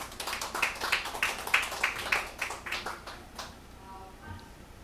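Audience claps to welcome a speaker at a talk on soil carbon farming: a burst of sharp, fairly rhythmic hand claps over about three and a half seconds that thins out and fades to quiet room tone.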